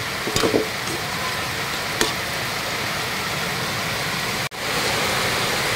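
Continuous crackling sizzle of onion and garlic frying in hot oil, loud and close, with a few sharp stirring clinks and a brief dropout near the end.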